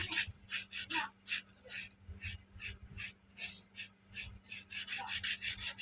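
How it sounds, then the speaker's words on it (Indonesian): Fine sandpaper rubs on a seized metal fan blade of a Mitociba fan, giving a close, quick rhythmic rasping in repeated back-and-forth strokes, fairly quiet, with no talking. "kita menggunakan amplas paling halus ya, bersihkan"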